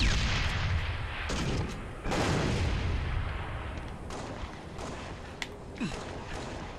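A grenade goes off in a Halo Reach clan battle, a loud booming blast with rumbling low end, surrounded by continuous distant gunfire and further explosions throughout.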